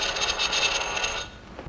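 A private office telephone in a 1951 film rings with a bright, jangling bell burst that cuts off after about a second, followed by quiet room tone.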